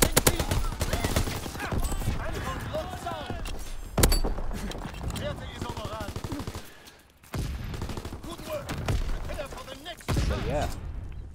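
Call of Duty: WWII gameplay with an F1 submachine gun firing in long, rapid automatic bursts, broken by short pauses. A voice talks over the shooting throughout.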